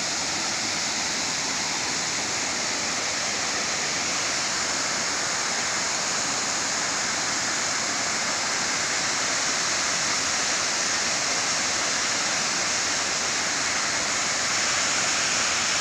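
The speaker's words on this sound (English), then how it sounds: "So you can see the water is flowing today, heavy rain." Water rushing strongly after heavy rain, a dense continuous roar like a waterfall or swollen stream, steady and fairly loud for the whole stretch with no voices.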